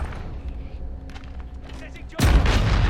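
A single heavy slug shotgun blast in the Modern Warfare video game, fired from an R9-0, bursts loud and booming near the end after a low ambient rumble and lingers as a broad roar.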